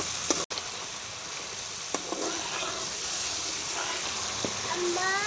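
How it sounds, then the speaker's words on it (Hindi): Turmeric and salt being stirred into cauliflower and peas in a hot pan for aloo matar gobhi, with a continuous sizzle, a sharp knock near the start and occasional scraping taps. "अब करेंगे मसाले को मिक्स।"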